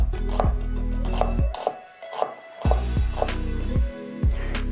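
Knife chopping half a peeled red onion on a cutting board, a run of firm, close rhythmic thuds with short pauses between strokes, no talking over it.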